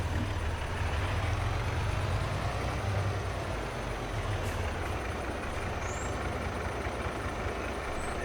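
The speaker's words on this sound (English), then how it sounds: "Try to take it slow because it'll take a second or two for this truck to stop." A heavy truck driving in Farming Simulator 22, its engine producing a steady low rumble that holds at an even level throughout, with no talking over it.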